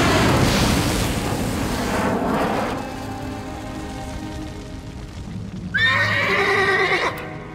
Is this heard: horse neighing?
yes